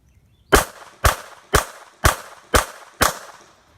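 Six sharp handgun shots ring out at an even pace about half a second apart during a trigger control drill, each crack loud and close with a short ringing tail and no talk between them.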